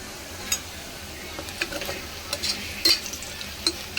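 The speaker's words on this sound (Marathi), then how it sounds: "बघा माझा कांदा, मिरची, माझं लसूण, अद्रक छानपैकी फ्राय होत आहे." Onion, green chili, garlic and ginger sizzle in a pan under a steady crackle while a spoon stirs them, with light taps and scrapes of the utensil scattered throughout.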